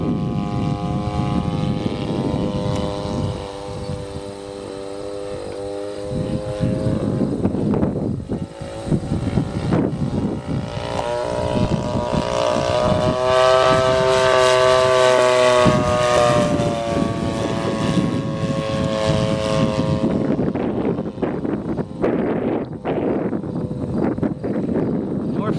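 A 30cc gas engine on a Great Planes Avistar RC airplane drones steadily in about 7 mph wind, its pitch rising and falling as the plane passes, loud and continuous, then briefly fading near the end.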